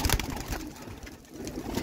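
Roller pigeon hens coo softly in a loft, faint low murmuring under a rustling background, with no speech.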